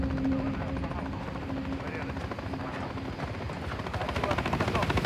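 A helicopter in the video game Call of Duty: Modern Warfare 3 whirs with a steady rotor chop, its blade pulses growing more pronounced toward the end. A constant mechanical hum sits underneath, with no voices.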